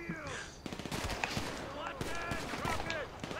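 Rapid bursts of automatic gunfire in GTA Online crackle in quick rattling volleys, with a person talking excitedly over the shooting.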